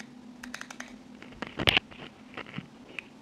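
Clicks from turning the aperture ring on a bayonet-mount Jupiter-8 camera lens, a series of small close detents in quick bursts with a louder cluster midway, set against a quiet faint hum.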